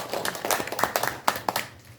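Scattered, sparse handclaps from a small audience at a commemorative launch ceremony, a few separate claps standing out over quiet room noise, brief and moderately faint.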